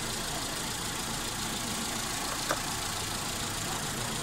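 A Mitsubishi Lancer engine idles steadily during coolant bleeding, giving a continuous mid-level hum with one brief faint tick partway through and no talk.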